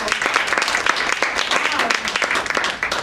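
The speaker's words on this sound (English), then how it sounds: "let's give them a round of applause" Applause from a chamber of commerce gathering fills the room with dense, steady clapping, the crowd's cheers and voices mixed through it.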